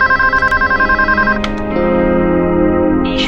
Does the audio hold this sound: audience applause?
no